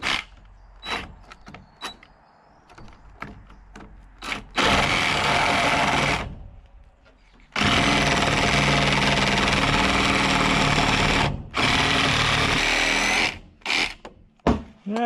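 A reciprocating saw cuts in long, loud, steady buzzing bursts, the longest lasting several seconds, separated by short pauses and sharp knocks and clunks of handling.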